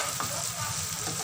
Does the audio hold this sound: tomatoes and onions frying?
yes